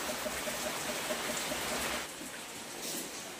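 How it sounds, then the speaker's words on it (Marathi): Steady rainfall in a village setting, a soft, even hiss of drops that eases slightly partway through before swelling again, faint and continuous with no voices. "हा पाऊस आहे ना बेटा"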